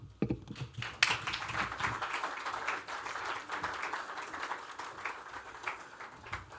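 Audience applause at a public lecture marking an anniversary at the Transcorp Hilton in Abuja, starting with a few scattered claps and swelling into steady, dense clapping from a crowd that carries on for several seconds.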